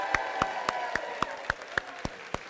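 Wedding guests clapping for the bride's parents, a slow, even series of about nine distinct claps in steady rhythm over a soft background murmur.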